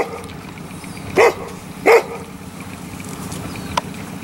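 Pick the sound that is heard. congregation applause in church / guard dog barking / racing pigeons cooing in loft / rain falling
guard dog barking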